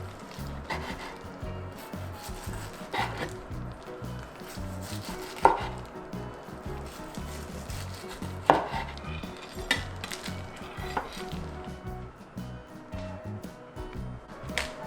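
Knife slicing boiled pork (suyuk) on a cutting board, a quiet series of soft, irregular cuts with a few sharper knocks against the board, close and alone.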